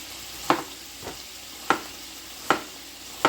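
Food being stirred in a pan during home dinner cooking, a soft steady sizzle under five sharp scraping clatters of the utensil against the pan at regular intervals, close and alone without talk.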